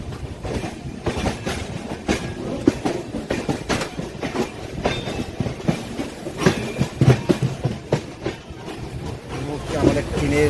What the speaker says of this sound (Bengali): যাই চলো ট্রেনে উঠে পড়ি, কারণ ট্রেন ছাড়বে, সিগন্যাল হয়ে গেছে।